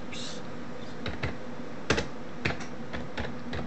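Computer keys are tapped in short, sparse clicks while a command is typed at a Windows command prompt during virus removal, with a steady low hum underneath and no talking.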